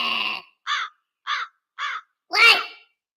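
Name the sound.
crows cawing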